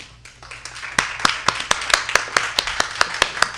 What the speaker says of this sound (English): I'm like clapping for myself.